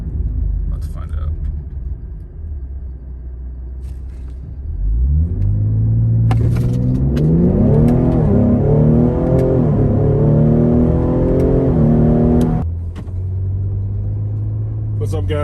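A tuned Ford Explorer ST with a Whipple intercooler idles with a low rumble, then launches hard in a 0-60 run, its engine climbing through gears with distinct shift dips before easing back to idle; loud and close.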